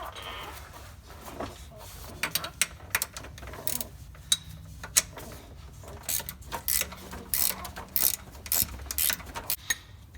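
A 15mm wrench loosening transmission mount bolts on a 2014-or-later GM Silverado, with close, faint clicking ratchet ticks and metallic taps in irregular clusters over a quiet background.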